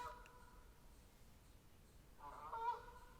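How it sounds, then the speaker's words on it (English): Faint geese honk twice in the distance, a brief call at the start and a louder burst near the end over quiet background hiss. "I don't know if you guys can hear those geese"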